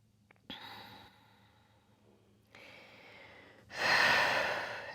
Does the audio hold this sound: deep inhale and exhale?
yes